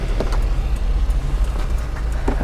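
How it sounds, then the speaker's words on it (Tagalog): Suzuki Every Wagon 4WD mini van's K6A engine, mounted under the seat, idles steadily with a low, even rumble up close, with a few faint knocks over the hum. "So ayan, umaandar po yung ating makina. So ito yung makina natin na K6A engine"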